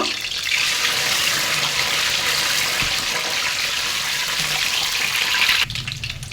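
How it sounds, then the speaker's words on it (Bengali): Five boiled eggs drop into hot oil for an egg korma, setting off a loud, continuous hiss and sizzle close by that fades abruptly near the end; no one talks. "তেল গরম হয়েছে এখন আমি দিয়ে দেব পাঁচটা ডিম ডিমগুলো ভেজে নেব"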